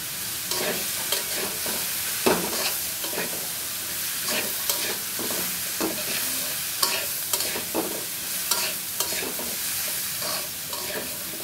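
Gima greens being stir-fried with turmeric and salt, a continuous close sizzle broken by frequent scraping strokes of a spatula against the pan.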